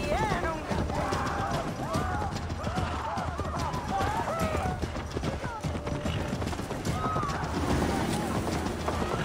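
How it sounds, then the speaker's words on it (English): Horses in the video game Assassin's Creed Valhalla whinnying and snorting over rhythmic hoof clops, busy and close, layered with game ambience and a voice speaking. "The horses can feel it too. Neighing, rolling their eyes."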